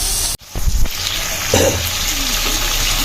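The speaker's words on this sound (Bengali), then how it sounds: "ঢেকে দিয়ে সুন্দর করে চুলার আঁচটা কমিয়ে দিয়ে ভালো করে এগুলোকে কষিয়ে নেবো যাতে মশলাগুলো প্রত্যেকটা জিনিসের ভিতরে ঢুকে" Chicken gizzards and liver sautéing in spices in a covered pan over a low flame: a steady close sizzle with a brief dip early on, then soft stirring clatter over the continuing fry.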